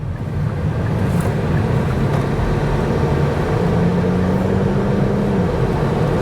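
Steady, loud cabin drone of a Kia Niro with a dual clutch transmission at 104,000 miles pulling away and downshifting, engine hum with a faint shifting pitch line, no speech.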